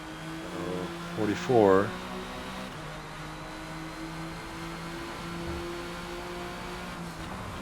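A 1998 Porsche GT1 race car at the Hockenheim circuit in Forza Motorsport, its engine droning steadily with a brief rev and gear change early on, with a voice speaking briefly.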